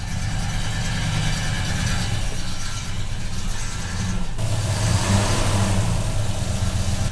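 A classic Rover P5B car engine running close by on an early-season cold start, a continuous rough idle that rises into a stronger rev in the second half.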